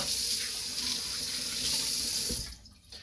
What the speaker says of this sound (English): get my hands rinsed real quick